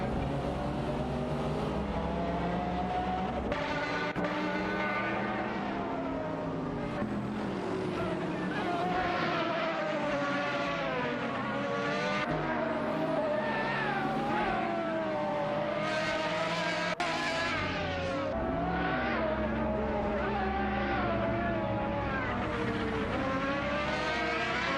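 Race car engines roar continuously in an AI racing video game, several cars' pitches rising and falling as they shift gears and pass, dense and loud throughout.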